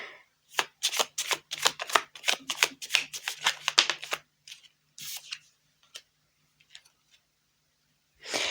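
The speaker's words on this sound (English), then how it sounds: "let's have another card for that one" Tarot cards are riffled and shuffled in a quick burst of crisp flicking snaps, then a few softer taps and slides as cards are drawn and laid down, close and fairly quiet, ending with another short shuffle.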